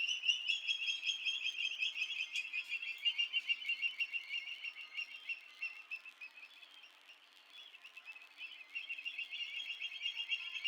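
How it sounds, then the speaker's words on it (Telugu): Birds chirp and twitter continuously in the morning at a farm, their rapid high-pitched calls overlapping fairly close by with no other sounds. "ఉదయాన్నే పక్షుల శబ్దం అయితే చాలా బాగా వినిపిస్తుంది"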